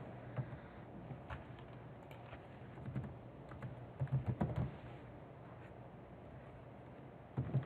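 Typing on a computer keyboard, a steady run of soft key clicks with brief busier bursts, close and quiet over a low background hum, with no talking.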